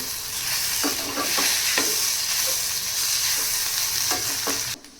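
Fasting-style potatoes fry and sizzle in a pan while being stirred, a steady close hiss broken by soft scraping strokes, with no talking.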